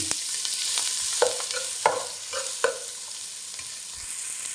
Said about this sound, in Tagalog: lagyan na nga po natin siya ng mantika. Ilagay ko na nga po yung sandamakmak na sibuyas